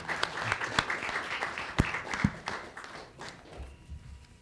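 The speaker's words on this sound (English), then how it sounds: "Please give our panelists applause." Light applause from the audience follows an academic conference panel on religion in public life. The clapping is faint and scattered, fading out after a few seconds.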